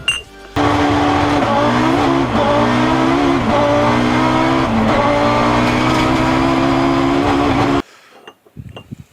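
A Volkswagen Corrado VR6 Turbo drives past with a loud engine drone that rises and dips in pitch through several gear changes, then cuts off abruptly into near silence.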